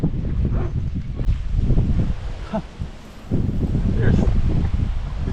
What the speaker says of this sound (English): It's quite windy on the windward side of the island today.